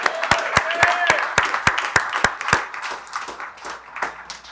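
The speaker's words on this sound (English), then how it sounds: "let's give a really big, large round of applause so she can hear it all the way in Cincinnati" At a national homebrew competition awards ceremony, an audience breaks into applause, with sharp, evenly spaced loud claps standing out over a steady crowd clapping that gradually softens.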